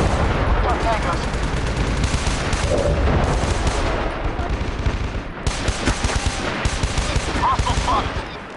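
Sustained automatic gunfire and rapid rifle bursts fill a SOCOM 4 military shooter firefight, loud and continuous with dense overlapping volleys, a brief dip midway, and faint voices mixed underneath.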